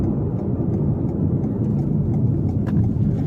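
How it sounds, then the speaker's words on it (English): Steady low engine and road rumble from a 2021 Toyota Yaris Cross Hybrid driving on country roads, a continuous interior drone with no talk. "Driving on these country roads,"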